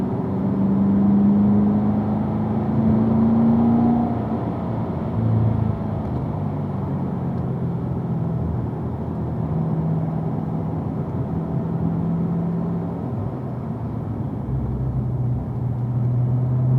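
A car accelerates hard on a racetrack during a performance driving school session, engine note climbing through the gears toward fourth, with a steady rumble and rising tonal whine heard from inside the cabin, continuous and fairly loud.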